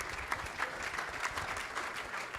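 Audience at a space-themed gala dinner applauding a panel, a dense, steady patter of many hands clapping at moderate loudness for a couple of seconds without speech.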